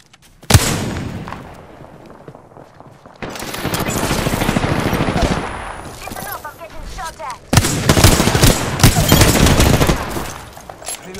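Bursts of automatic gunfire in the shooter Apex Legends, loud and sustained rapid fire in several long runs with short gaps between them, heard alongside game sounds.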